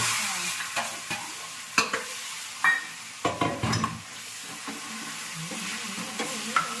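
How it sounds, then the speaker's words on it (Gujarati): Tempering for pav bhaji sizzles and fries in a pan, with a steady hiss broken by repeated clinks and scrapes of stirring, close and fairly quiet, with no talk. "પાવભાજીનો વઘાર થાય છે"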